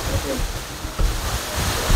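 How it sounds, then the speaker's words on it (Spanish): The Kigari waterfall roars as a steady, loud broadband rush, with faint wind buffeting on the microphone throughout. "Nos encontramos ahorita mismo en la cascada Kigari"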